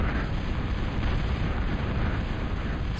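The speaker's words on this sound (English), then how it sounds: "And there we go, leveler shot, it's hitting that Samson." Leveler artillery shells slam into an enemy vehicle plant in a real-time strategy game match on the Darkside map, a dense continuous rumble of blasts and debris, loud and unbroken throughout with no distinct single impacts.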